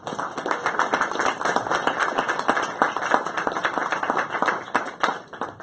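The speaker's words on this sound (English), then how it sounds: "Well, help me give them a big round of applause." An audience claps for a panel at a press-freedom briefing: steady, dense applause from many hands, close and continuous throughout, with no voices standing out.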